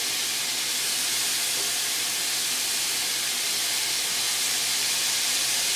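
Chicken searing on a hibachi grill gives off a loud, steady, broadband sizzle-hiss that holds evenly from start to finish with no talking.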